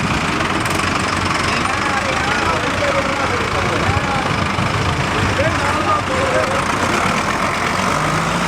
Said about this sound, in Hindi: देखो तरह तरह के मॉडल ट्रैक्टर के